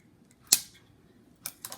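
Scissors trimming a woven basket piece make one sharp, close snip, followed a moment later by two quicker, lighter snips, against a quiet background.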